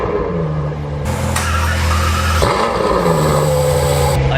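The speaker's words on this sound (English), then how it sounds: "Another great cold start" A Ferrari V12, from an 812 Superfast or F12 Berlinetta, starts from cold close by. A sudden loud roar flares, then settles into a steady, high idle.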